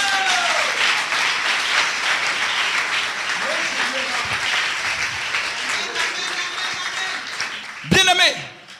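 A church congregation applauds and cheers in praise of God during a prayer service, a dense continuous wash of clapping and voices that swells again near the end.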